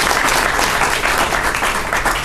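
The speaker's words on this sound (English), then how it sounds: "Give him a round of applause." Audience at a university donor celebration breaks into steady, full applause, dense clapping from a sizable crowd filling the short stretch without a break.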